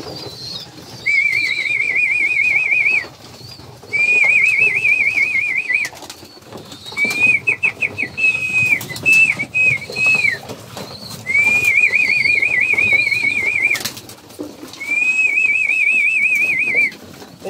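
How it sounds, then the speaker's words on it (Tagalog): A person whistles repeatedly in long warbling bursts to call racing pigeons home to the loft, about five phrases with short pauses, loud and close, with faint rustling and bird sounds behind. "narinig nila yung sipol ko"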